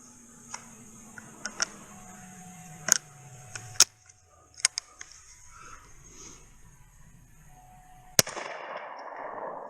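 Sharp gunshots from a Rossi Survival single-shot gun outdoors, several distinct cracks spaced irregularly with quiet gaps, the last followed by a lingering rumble.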